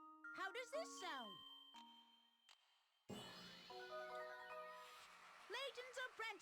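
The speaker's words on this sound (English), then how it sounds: "you hear the bell ring out for the 12th time" Chiming bell tones from the video game Professor Layton and the Curious Village ring out amid bright game music, several clear melodic dings rising and falling with jingling accents.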